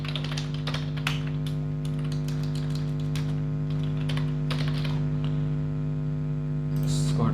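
Keystrokes on a computer keyboard entering a value into a web form, a fairly quick run of close taps over a steady electrical hum, with no talking.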